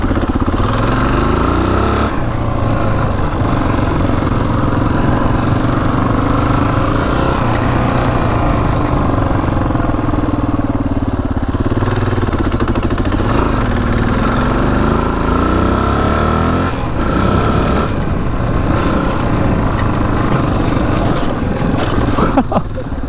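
A rare Honda 500cc motorcycle engine runs continuously up close while being ridden, loud and buzzy, with repeated rises and dips in revs.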